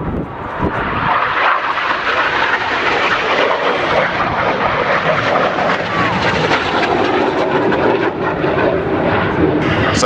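Red Arrows jet aircraft from the synchro pair flying past during an air display manoeuvre, a loud sustained roaring jet rush dominating throughout, with a commentator talking over it.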